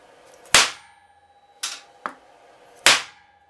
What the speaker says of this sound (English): So a couple more good thumps and that bullet will pop right out of there.